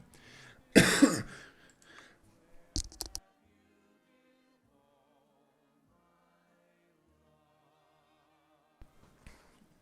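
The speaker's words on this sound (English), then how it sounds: "a slight coughing fit because my throat is getting a bit dry" A man with a dry throat coughs hard in a short burst near the start, then a few smaller coughs, and a faint throat sound at the end, with long quiet gaps between.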